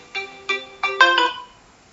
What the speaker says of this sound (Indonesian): Ini ada telepon.